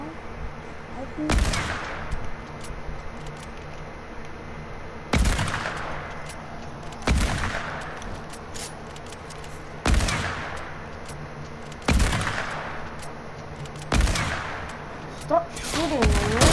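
Gunshots ring out in a Fortnite match, loud single cracks repeating every two seconds or so with echoing tails, over background game noise with players talking.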